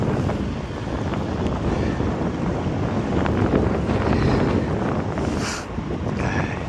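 Strong wind buffeting the microphone on a bicycle ride along the Jeddah Corniche by the sea, a continuous loud rumbling roar with gusty swells and no voices.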